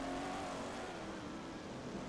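A Porsche race car accelerating uphill during a Grand Prix road race, a steady engine roar heard at a distance for a couple of seconds.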